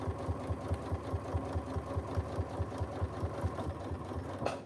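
A sewing machine stitches a DIY corset dress, running as a steady rapid chug of evenly spaced needle beats close by, with a faint higher whir over the top and no talking.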